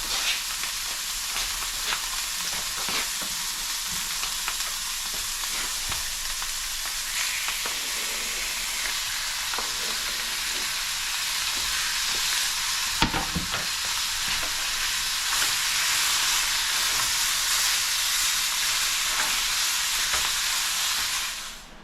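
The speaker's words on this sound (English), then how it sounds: "we're going to brown the venison, brown all the meat." Venison sears in oil and butter in a pan, producing a loud, steady, close sizzle and crackle that holds for the whole stretch with a few faint clinks and scrapes.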